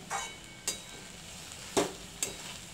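Chopped fenugreek greens being mixed with dried shrimp by hand or spoon, a few soft scraping stirs spaced out over quiet background, close and fairly faint, no talking.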